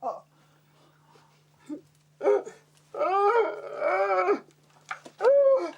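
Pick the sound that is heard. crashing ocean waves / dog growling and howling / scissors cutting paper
dog growling and howling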